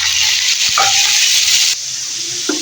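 Half a kilo of chicken hits hot oil with browned onions, raising a loud, bright, continuous sizzle that drops slightly in level partway through, with a couple of faint clinks over the hiss.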